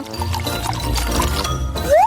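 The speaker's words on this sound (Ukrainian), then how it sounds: "Зальєш туди олії е. та без проблем. Виливаємо всю пляшку." A whole bottle of cooking oil glugs steadily into a vase, a close, continuous pour with a thick liquid gurgle and faint clinks that rises slightly near the end.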